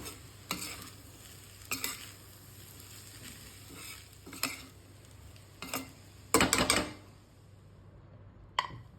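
Puliogare rice with masala and fresh coriander stirred in a pan over low heat, soft sizzle under intermittent spatula scrapes and knocks against the pan, close, with a cluster of louder strokes near the end.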